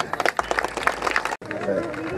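A crowd at the Pascala del Oro festival in San Luis Acatlán, Guerrero, breaks into dense clapping that cuts off abruptly, followed by voices and crowd murmur.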